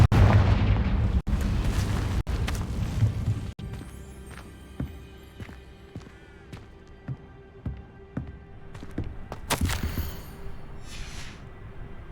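In Hogwarts Legacy, the Confringo blasting spell sets off explosions: a heavy boom opens, then sharp cracks and crackling debris follow. A few more bursts and fizzing effects sound over a low rumbling game background.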